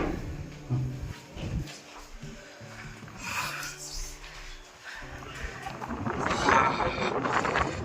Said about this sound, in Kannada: ತಣ್ಣ ಗಾಳಿ ಬೀಸ್ತಿದೆ.